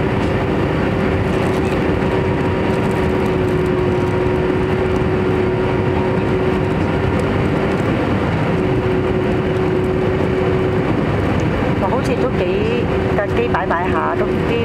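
Aircraft engine roaring steadily throughout a landing approach into Taichung, loud and continuous with a thin steady whine, while passengers talk over it.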